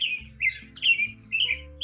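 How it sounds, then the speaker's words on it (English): A single American robin calls in a short run of bright, squeaky chirps, four or five quick notes within about two seconds, close and clear over a low hum. "There was an American robin"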